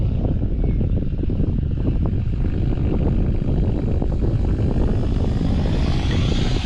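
A model helicopter's motor runs at idle during autorotation practice, giving a loud, continuous buzzing whir of motor and rotor close by, with a tone that rises toward the end.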